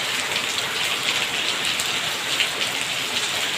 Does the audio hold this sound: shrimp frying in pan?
no